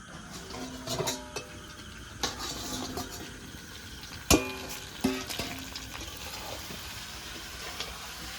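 Chicken for biryani is sautéed in a pot, with a spoon scraping and clinking against the metal in irregular bursts over a soft sizzle, one sharp clang standing out, close by with no talking.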